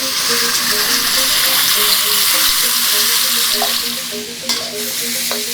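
Spice paste hits hot vegetable oil for Indonesian sayur lodeh, a loud, continuous sizzle with faint tonal hums running through it and a few clinks near the end.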